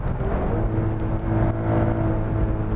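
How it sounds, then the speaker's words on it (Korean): Steady low engine drone and exhaust hum from a 2025 Maserati Grecale Trofeo 530-horsepower SUV while driving, smooth and moderate without sharp revs. "배기 사운드가 과하진 않아요."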